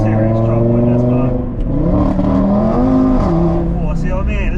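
A 540 bhp Audi TTRS APR Stage 2 five-cylinder driven hard, loud in-cabin engine tone rising and falling through gear changes, with a voice talking over it.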